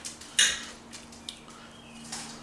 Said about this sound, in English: We're just going to spoon this into the basket